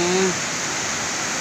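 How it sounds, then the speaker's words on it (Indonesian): Steady rushing of the Karakal river, a natural, clean stream flowing over its bed, with a constant broadband wash of water close by and a brief tonal hum at the start. "melihat situasi sungai alam Karakal yang masih asli, bersih,"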